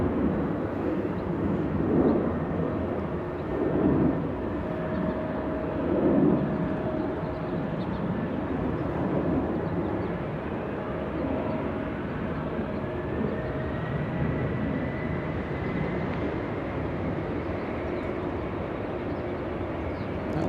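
A heavy jet takes off from runway 24 left at LAX, a sustained, fairly distant roar with a thin rising whine threading through it for the full stretch.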